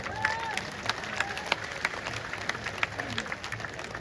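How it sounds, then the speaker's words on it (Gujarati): A crowd at a Gujarati community gathering claps with raised hands, a dense wash of applause with scattered sharper claps and a little cheering, steady throughout and heard from a slight distance. "તો 2 હાથ ઊંચા રાખીને તાળીઓ પડે ખબર પડે"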